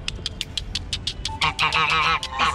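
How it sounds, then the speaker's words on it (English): Ducks quack nearby at the Kumasi Zoo in Ghana in a quick, rhythmic series, then several birds break into louder, overlapping honking calls. "These are the ducks."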